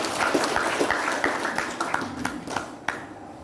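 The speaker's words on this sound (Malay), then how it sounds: "Tepuk tangan sekali lagi." A crowd claps at a village thanksgiving ceremony for a newly appointed headman, scattered individual claps standing out over a dense patter that thins toward the end, with faint voices underneath.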